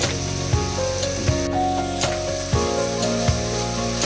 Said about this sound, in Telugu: అల్లం వెల్లుల్లి పేస్ట్ బాగా వేగాలండి